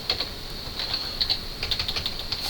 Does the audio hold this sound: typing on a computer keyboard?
yes